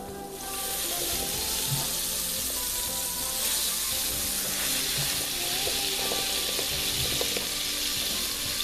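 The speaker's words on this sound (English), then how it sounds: "Go ahead on and melt your butter" Butter melts in a hot pan with a steady, bright sizzle that starts within the first half second and holds evenly, close and continuous, with faint clinks underneath and no talk.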